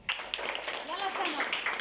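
A class of students applauds a classmate, a short burst of clapping from the group running throughout, close and fairly loud, with young voices mixed in.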